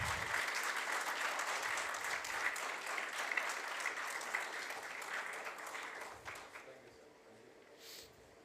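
An audience at a corporate HR conclave applauds, a dense, steady clapping that holds strong for several seconds, then thins and fades toward the end.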